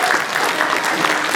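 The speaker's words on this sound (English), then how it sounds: "you owe this man a round of applause" A crowd applauds steadily, a dense patter of many hands clapping throughout with no pause.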